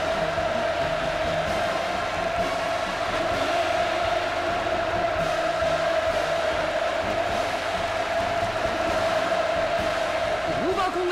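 A large crowd cheers and shouts hurrah in unison at a reception for a Cuban delegation in North Korea, a dense, steady roar that holds for the whole stretch with no break.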